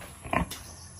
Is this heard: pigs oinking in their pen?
yes